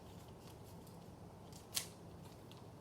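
Scissors make one quick, crisp snip through packing tape during a sculpture build, a single faint close cut over near-silent room tone.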